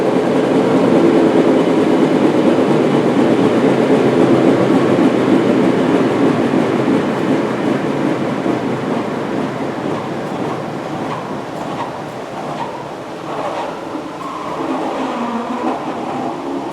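A wide belt sander head spins down after shutoff, with a steady loud mechanical whir and rumble that slowly lessens over about seventeen seconds.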